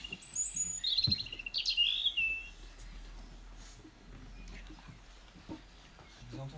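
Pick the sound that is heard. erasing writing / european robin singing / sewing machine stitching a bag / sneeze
european robin singing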